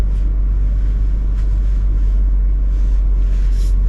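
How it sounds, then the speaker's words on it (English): A parked car idles with its air conditioner running, giving a steady, loud low hum and fan whoosh inside the cabin on the Dalton Highway in Alaska. "Got the engine on and the air conditioner running."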